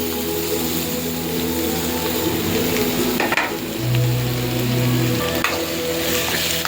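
An ingredient dropped into a pan of browned onions, frying with a steady loud sizzle and a burst of crackling midway, alone with no voices.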